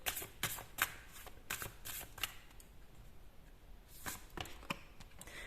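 Tarot cards are shuffled by hand in quiet bursts, giving crisp riffling flicks and soft slaps in a few short runs, with a pause between the groups and no talk.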